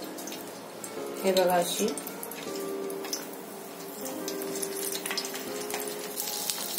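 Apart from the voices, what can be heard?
green chillies frying in hot oil in a pan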